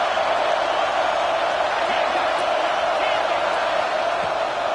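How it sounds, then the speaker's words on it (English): A college football stadium crowd roars on a third-down play in the red zone, a dense, loud, sustained wall of cheering that holds steady for the whole stretch. "this crowd is at fever pitch"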